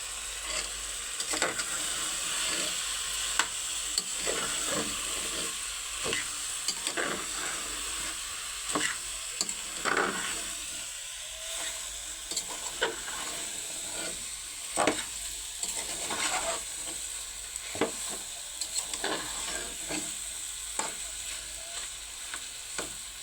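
Spice paste for an egg curry sizzling and frying in a pan, with a spoon scraping and stirring at irregular intervals over a steady hiss.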